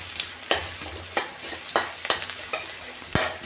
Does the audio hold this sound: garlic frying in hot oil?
yes